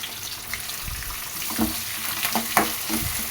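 Onions and curry leaves fry in a pan with a steady crackling sizzle, broken by a few louder clinks and scrapes from stirring, close and fairly quiet.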